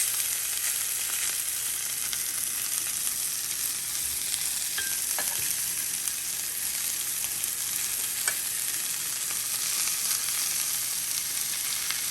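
Bacon frying inside crumpet rings on a hot surface, a loud, steady, close sizzle that continues throughout with a few faint clicks and no voices.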